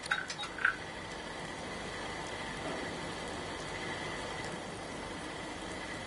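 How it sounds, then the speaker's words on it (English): Steady rain falls as a continuous broadband hiss, with a couple of brief brighter taps near the start, then an even, moderately quiet wash of rainfall to the end. "Oh my, it's raining again."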